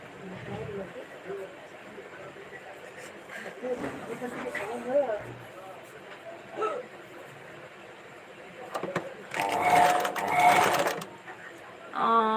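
A sewing machine stitches in a rural Maharashtra village setting, with short bursts of mechanical whirring, the loudest run near the end, heard among people talking and some background chatter.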